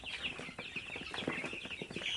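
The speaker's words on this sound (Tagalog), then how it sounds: "Mga bisayang manok natin." Native Bisaya chickens cluck close by in a farmyard, with a steady chorus of overlapping clucks and chirps that runs throughout.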